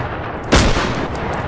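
A single loud gunshot cracks out in the zombie VR shooter game SURV1V3, sharp and close, followed by a short decaying tail over a low background hum.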